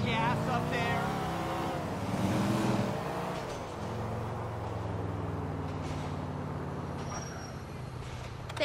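A car engine hums and drones steadily while driving in Grand Theft Auto 4, with people talking over the motor noise.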